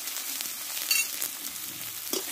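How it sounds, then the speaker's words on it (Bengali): Spices with tomato, turmeric, Kashmiri chili powder and salt are stir-fried in a pan, giving a continuous close hiss of frying with a couple of faint scrapes of the spatula. "মশলাটা এবার আমি একসঙ্গে ভালোভাবে কষে নেব।"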